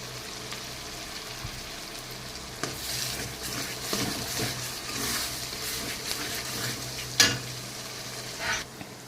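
Chili paste and white mustard-poppy seed paste sizzle in hot oil, a steady close fry under repeated scraping strokes of a spatula against the pan, with a few sharper clinks and no voices.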